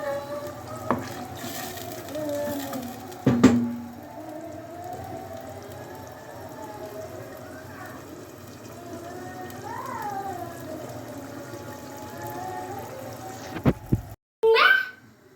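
Chickpeas cooking in a pot of water, heard as a soft, steady bubbling and hiss with a few knocks and clanks of the pot or a utensil, ending in a brief louder clatter.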